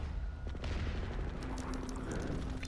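Gunfire in the video game PlanetSide 2, a continuous dense rattle of many distant and nearby shots in a large battle over a facility, with a steady tone cutting in partway through.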